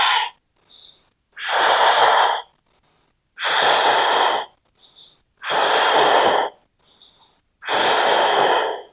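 Slow, steady breathing during a vinyasa yoga flow, with long loud exhalations repeating about every two seconds, each followed by a faint short inhale, close and alone.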